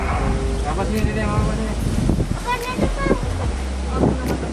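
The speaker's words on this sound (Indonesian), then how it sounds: "naik kapal di fauna land Ancol" Steady rumble of a boat carrying people on a river ride at Faunaland Ancol zoo, Jakarta, with wind buffeting the microphone, while people talk excitedly over the engine and splashing.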